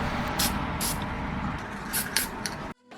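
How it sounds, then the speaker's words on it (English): Several short hissing bursts of spray paint onto a custom Nintendo Switch, each lasting a fraction of a second, over a steady background hum, ending abruptly. "so let's spray paint it."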